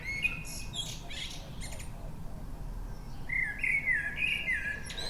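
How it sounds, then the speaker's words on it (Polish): Melodic Eurasian blackbird song with fluting, warbling phrases, heard at a moderate distance over a low background rumble of outdoor ambience. "Tu i ówdzie słychać relaksujący śpiew kosa."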